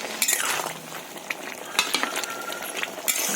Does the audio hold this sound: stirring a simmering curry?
yes